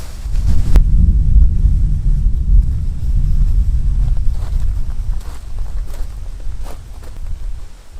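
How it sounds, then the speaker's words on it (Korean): Strong wind buffeting a microphone during rainy camping beside a one-touch pop-up tent, a loud continuous low roar and rumble that swells and eases, close up throughout. "오, 바람."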